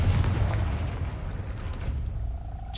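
A Confringo blast spell explodes in the Hogwarts Legacy video game, a loud, low booming burst that rumbles and decays over a few seconds with a faint tonal ring near the end.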